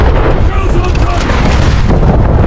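HMS Warspite naval cannon fire in the War Thunder Mobile video game: loud, dense rumbling blasts and booming gunfire that fill the whole stretch without a pause.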